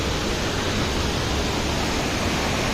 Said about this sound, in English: Have a glimpse, another glimpse of the waterfalls